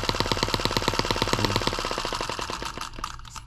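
A small engine on a carburetor and intake manifold project runs with a rapid, loud popping beat that slows slightly and fades toward the end, close by with no talking.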